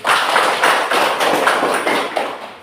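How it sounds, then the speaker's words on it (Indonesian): A small group clapping for Marlen during a coaching supervision session, a short run of rhythmic hand claps in even bursts, fairly close, with no talking. "Tepuk tangan untuk Marlen"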